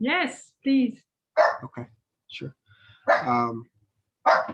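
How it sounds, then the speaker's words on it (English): A small excited dog yips and barks in short bursts, close by, mixed with someone talking on a phone call. "that's my dog. He gets a little excited."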